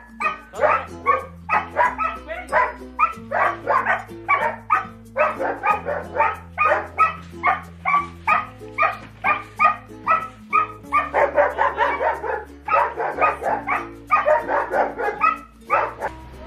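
A pack of dogs barks and yips nonstop, loud and close, with overlapping barks forming a dense chorus over a low droning hum throughout.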